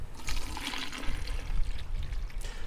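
Brine pouring from a container over a steelhead salmon fillet, a steady close splashing trickle of liquid lasting the whole moment with no talk.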